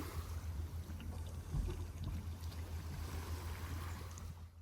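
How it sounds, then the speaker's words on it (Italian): Night at sea aboard a sailboat on a voyage from Salento to Greece: soft, continuous wash of water against the hull with low wind rumble, quiet and steady, no voices. "vi lascio un po' al silenzio e al suono del mare"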